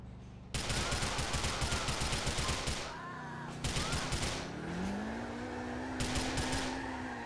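In GTA IV, rapid bursts of automatic gunfire from a car rattle in long volleys over a droning car engine, pausing briefly between bursts, loud and close.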